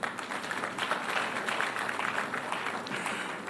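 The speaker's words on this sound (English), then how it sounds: "Another round of applause." A crowd at a business forum applauds steadily at a moderate distance, a sustained patter of many hands clapping without a break.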